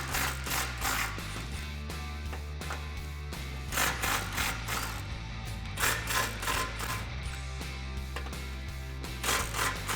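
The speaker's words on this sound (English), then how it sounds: "Now what we're going to do is loosen up these 2 clamps. There's 2 bolts each" A socket wrench loosens the exhaust clamp bolts on a 2018–2019 Mustang GT fitted with a Borla ATAK cat-back system, with repeated metallic ratcheting clicks and clanks over a steady low hum.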